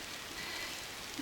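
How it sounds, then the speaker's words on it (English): Rain falls outdoors in a soft, steady hiss of drops on surfaces, faint and continuous with no talking. "it's raining, so I gotta hurry"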